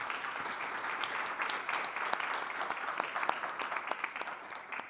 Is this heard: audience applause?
yes